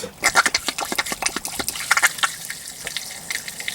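Water gushing and splashing from a freshly opened water barrel, a burst of irregular bubbling and gurgling pulses close by for a few seconds.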